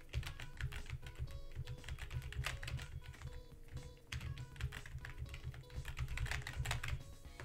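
Steady, rapid clatter of keys on a computer keyboard while playing a Scratch FNF game, continuous and fairly close, with a low background hum underneath.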